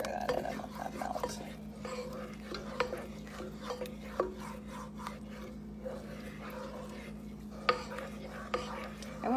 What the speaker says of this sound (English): Maybe we'll just stir that in and let that melt.